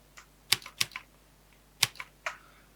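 Typewriter key strikes play in sync with a text animation: about six crisp, close clicks land in an uneven rhythm, with short gaps between them and no other sound.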